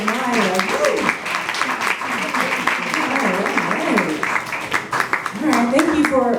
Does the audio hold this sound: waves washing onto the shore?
no